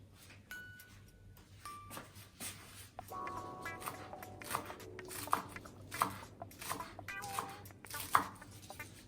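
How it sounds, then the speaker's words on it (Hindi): A knife taps repeatedly on a cutting board as fresh coriander is finely chopped, quiet and irregular at first and then quicker, with light scraping and a few sharper knocks against a low room hum. "बाकी हरा धनिया काटते हैं"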